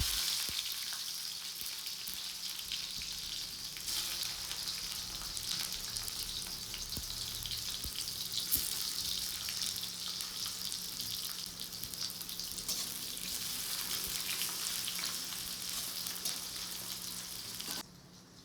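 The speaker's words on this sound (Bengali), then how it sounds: "আর এখানে তো কড়াটা ভাজা হচ্ছে" Cut vegetables frying in a kadai in a home kitchen, giving a continuous, even hiss of sizzling oil that stays steady at moderate loudness throughout, without speech.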